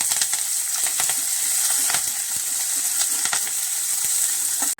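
Coriander and curry leaves crackle and sizzle in hot oil, a loud close spitting hiss with sharp pops and no voices.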